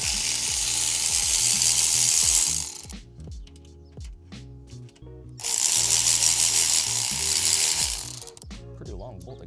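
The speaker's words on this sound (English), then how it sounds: "I'm gonna come on this side and start removing the rest of the bolts on the bottom." A ratchet wrench cranks out the exhaust header bolts on a 2026 Yamaha R9 motorcycle during a Dominator GP3 full-system exhaust install, two long loud bursts of fast clicking separated by a quieter pause, close up.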